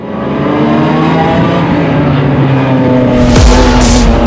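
Cars, a mix of race and road machines including non-BMWs, roar at a BMW club track day, a loud, continuous engine drone close by with a car sweeping past near the end.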